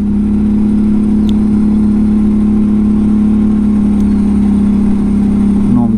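ATV with a broken front differential running: a loud, close, steady mechanical drone with a droning hum and faint rattling, continuous throughout.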